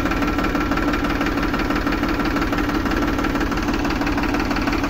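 A Farmtrac 35 tractor engine runs steadily and loudly up close, with a constant rumbling, knocking drone and no pauses or speech.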